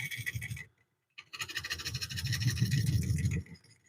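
A woodturning scraper cuts a bowl on a lathe, giving a close, raspy scraping in two bursts: a short one, a brief silence, then a longer steady pass that fades out at the end.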